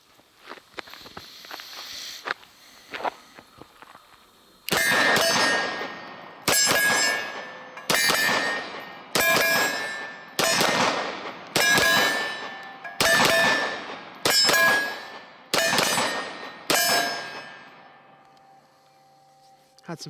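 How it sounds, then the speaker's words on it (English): A CZ 75 B matte stainless pistol firing a Mecgar 19-round magazine of LAX ammunition outdoors: about nine loud, sharp gunshots spaced a second or two apart, each followed by a ringing tail, after a few faint clinks. "right now I'm just going to shoot this Mekgar 19 round magazine here"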